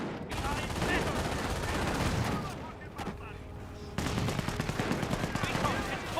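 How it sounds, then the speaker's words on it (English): Rifle grenades and gunfire in Company of Heroes, dense crackling rifle and machine-gun fire with dull blasts over a continuous battle din, a sharp burst of louder firing near the end. "Rifle grenades pushing the way forward."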